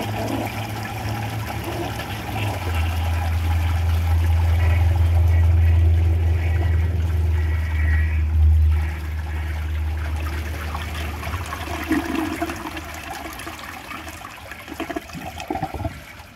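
A 1984 Kohler Cayuga toilet flushes a grocery bag test load, a loud close rushing swirl of water for several seconds, followed by gurgling and a steady refill trickle as the tank fills.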